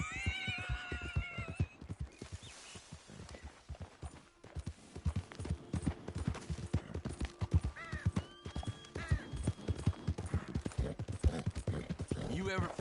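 In Red Dead Redemption 2, horse hooves clip-clop in a rhythmic beat under voices, opening with a horse's whinny and continuing as regular thuds throughout.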